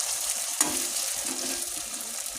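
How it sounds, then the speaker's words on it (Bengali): Steady, close sizzling of potatoes frying in hot oil, a continuous crackling hiss with one brief clink partway through. "ঝুরু ঝুরু আলু ভাজা করব এই যে ভাজা বসিয়ে দিয়েছি"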